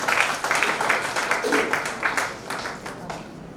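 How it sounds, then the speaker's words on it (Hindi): A crowd at a community gathering applauds the stage with loud, rhythmic clapping in pulsing waves that continue steadily and ease slightly toward the end. "तो एक जोरदार तालियां होनी चाहिए हमारे मंच के लिए"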